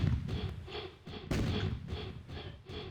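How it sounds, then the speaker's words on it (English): Guns and cannon fire in the Mini Map Kingdom video game, a rapid series of regular muffled booms and thumps, about two a second, dense and continuous with no voices. "All the guns and the cannon fire."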